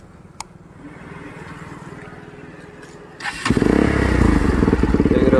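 A Bajaj NS200 motorcycle with a custom exhaust starts after a quiet idle, then roars up close and loud with a deep, rumbling, pulsing note that keeps going to the end.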